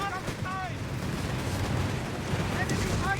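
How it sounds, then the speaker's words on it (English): Artillery strikes in the WWII strategy game Company of Heroes 3, set in North Africa at Tobruk, rumble as a dense, continuous low roar of distant explosions, with a few brief whistling tones over the din. "Their artillery striking us."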